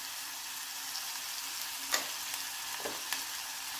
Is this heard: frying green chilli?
yes